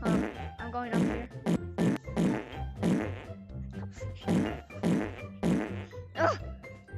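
Repeated fart sound effects in a Gorilla Tag fangame video game, a rapid series of loud, blubbery bursts in an irregular rhythm, close and prominent.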